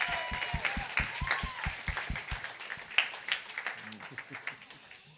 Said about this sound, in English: let's give Marie a nice big round of applause